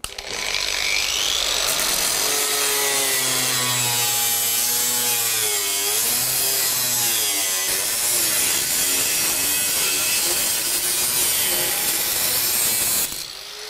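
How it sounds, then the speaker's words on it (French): An angle grinder cuts through sheet metal with a loud, sustained abrasive whine and harsh rasp that wavers in pitch as the disc bites, close up, starting and stopping abruptly, with no voices. "Et maintenant, je vais découper en traversant la tôle."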